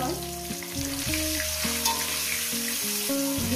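Eggs fry in a pan of hot oil with a steady broadband sizzle, while a melodic tonal pattern, likely background music, sits over the frying throughout.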